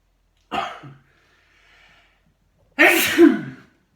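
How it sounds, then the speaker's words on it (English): Two sharp sneezes, the second louder and fuller, separated by a short quiet pause. "I'm going to sneeze"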